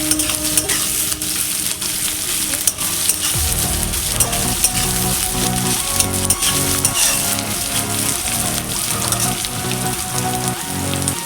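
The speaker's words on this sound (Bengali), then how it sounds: "আমি পেঁয়াজটা একটু ভেজে নেব।" A chopped medium onion fries in oil in a pan, a loud, dense, continuous sizzle with a rhythmic scraping of stirring running underneath throughout.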